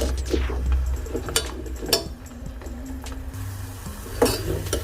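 Garlic cloves for South Indian garlic pickle roast in a pan. Gentle sizzling runs under repeated stirring scrapes and sharp clinks of a utensil against the pan at close range.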